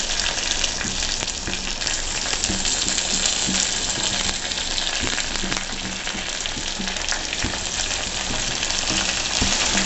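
Eggplant pieces for a Telugu vankaya curry fry in hot oil with onion, curry leaves and green chillies, giving a loud, steady, dense sizzle that lasts throughout with no voice over it.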